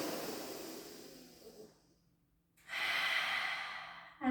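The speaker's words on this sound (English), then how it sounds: "Take a beautiful breath in." Slow, deep breaths during a Pilates flexibility exercise, with a long exhale, a brief pause and then a strong close inhale, heard alone.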